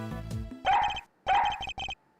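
Dog barking in the video game Ace Attorney Investigations: several sharp, close barks in two quick bursts, each bark clipped and rhythmic, following a short musical jingle, with no talk.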